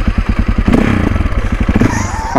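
A 2008 KTM 525 EXC enduro motorcycle idles loudly up close, its big single-cylinder engine thumping in a steady, fast, uneven beat with a mechanical clatter, blipping briefly higher near the middle.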